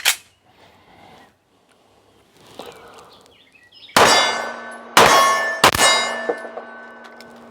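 Pistol shots hitting steel targets at 20 yards, with a faint pop at the start, then three loud sharp rings about a second apart that each leave a lingering metallic hum.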